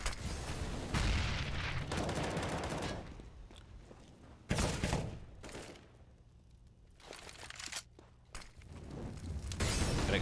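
Grenades are traded at top mid on Mirage in Counter-Strike. Loud bursts of blasts and gunfire alternate with quieter stretches of footsteps and distant shots, and the explosions return near the end.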